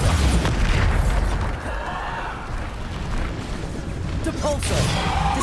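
A Bombarda spell in the Hogwarts Legacy video game bursts with a deep booming blast at the start, then a rumbling decay under game sounds, with a voice shouting spell names over it.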